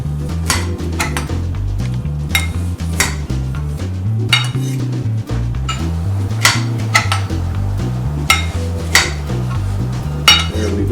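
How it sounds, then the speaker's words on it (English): Knife chopping food into pieces on a cutting board in a home kitchen, a steady run of sharp, evenly spaced knocks and clinks heard up close over a low, continuous tonal background. "we just chop this into pieces like that"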